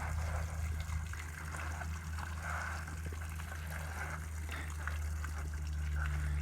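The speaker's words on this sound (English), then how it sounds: "I have to rinse the bucket." A bucket being rinsed out with water after a black sand filter experiment; close splashing, trickling and gushing water sloshing around inside, steady with small surges, over a low background hum, no talk.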